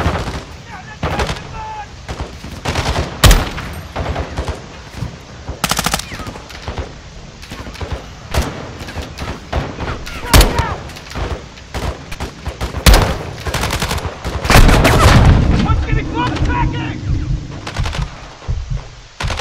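Rapid automatic gunfire and single shots crack through a Modern Warfare 2 campaign firefight, loud and dense, with bursts, a heavier rumbling stretch near the end and occasional voices mixed in.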